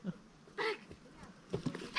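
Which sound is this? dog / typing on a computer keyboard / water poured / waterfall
dog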